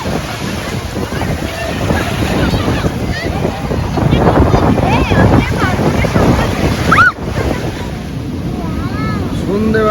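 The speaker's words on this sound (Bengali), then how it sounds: "সন্ধ্যেবেলার পুরীর সমুদ্রের ঢেউ" Evening sea waves break on the beach at Puri, a loud rolling surf with wind buffeting the microphone and people talking nearby over the roar.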